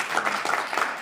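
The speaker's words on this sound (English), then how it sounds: "How about one more round of applause for our" An audience at a panel discussion applauds, a brief burst of moderate, fairly distant clapping from a crowd with no talk.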